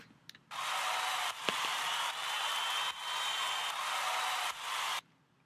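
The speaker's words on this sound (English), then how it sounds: "Then the next sound we have here is a crowd cheering kind of thing." Crowd cheering sample layered into a riddim track: a steady, bright wash of cheering noise with low frequencies removed, sustained for several seconds with a couple of brief dips, and no voices over it.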